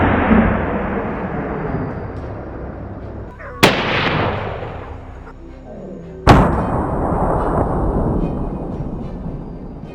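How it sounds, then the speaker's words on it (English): Two sharp, loud gunshots several seconds apart during a wild boar hunt outdoors, each with a crisp crack and a long rolling echo over a noisy, rumbling background. "Boom! The gunshots are crisp."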